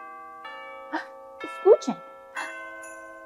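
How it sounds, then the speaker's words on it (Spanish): A bell rings with a sustained, steady tone during a Spanish lesson for toddlers, ringing out close by under brief spoken exclamations. "Eso es el sonido de una campana."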